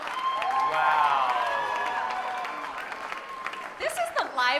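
A lively audience at a Fast Pitch 2018 event applauds and cheers loudly and steadily, with voices rising over the clapping before it thins out near the end.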